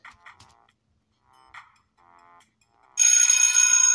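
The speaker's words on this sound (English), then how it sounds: "And that's the bell." An electronic school bell rings out loudly and steadily for about a second at the end, after a few brief high chirps and tones.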